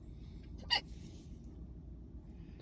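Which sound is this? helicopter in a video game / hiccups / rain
hiccups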